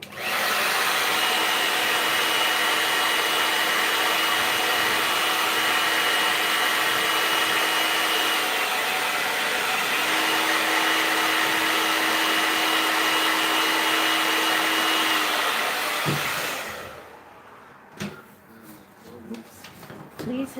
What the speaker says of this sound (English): Turn on a cool dryer.